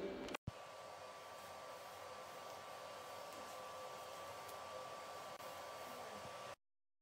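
A hair dryer blows on hair with a steady whirring roar. A click starts it, and it runs evenly for about six seconds before cutting off abruptly. The sound is fairly quiet and close.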